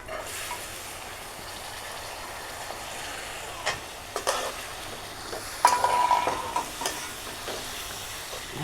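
Potatoes fry quietly in a pan in a home kitchen, a soft sizzle punctuated by several scraping stirs and clinks of the utensil, faint and close with no talking.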